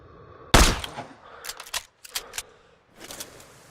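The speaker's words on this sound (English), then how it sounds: "Set the scope 200 meters to combat bullet drop. Check the wind and pull the trigger." A single loud, sharp sniper rifle shot cracks in the Sniper Ghost Warrior 3 game, followed by a spread of quieter mechanical clicks and clatter from bolt handling or ejecting brass.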